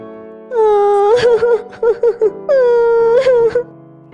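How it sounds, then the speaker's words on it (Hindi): A girl crying in loud, drawn-out wailing moans with broken, sobbing catches between them. The wails come in two long bursts close by, with no other voices around. "उसे रोने की आवाज़ सुनाई देती है"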